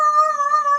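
A person imitating a dog howling: one sustained, steady, tonal wail held close and fairly loud, with no other sounds around it.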